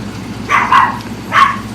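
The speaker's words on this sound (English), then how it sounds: "now y'all hear my puppies. My sweet little puppies. My chihuahuas." Small chihuahua puppies give two short, sharp yaps about a second apart, heard close by over a low steady background hum.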